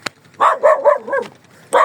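A village dog in rural Punjab, Pakistan, barks in a quick run of four or five loud, close barks, then a pause and one more bark.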